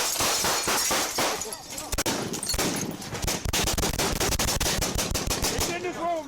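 Automatic gunfire from a suspect during a SWAT standoff rattles in dense, rapid bursts throughout, sharp and loud, with some indistinct voices underneath.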